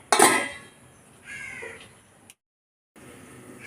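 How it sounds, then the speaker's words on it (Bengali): Spiced masala stirred in a metal kadai: a sharp burst of clinking and scraping, softer stirring scrapes, then a lid clacks down and the pan goes quiet before low cooking noise resumes. "এবার নেড়ে নিয়ে আমি ঢাকা দিয়ে মশলাটা কষাতে দেব।"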